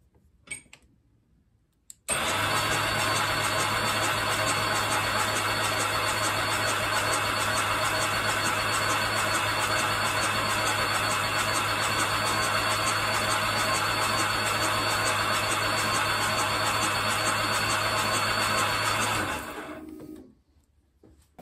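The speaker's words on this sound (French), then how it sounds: "je vais la starter comme ça sans les bougies pour faire monter la" A Ducati 900SS motorcycle engine cranked on the starter with its spark plugs removed, giving one long, steady mechanical whir with a constant drone that begins abruptly, holds for about seventeen seconds, then winds down.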